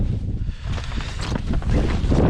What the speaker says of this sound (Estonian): Tuul tõmbas ka normaalsemaks.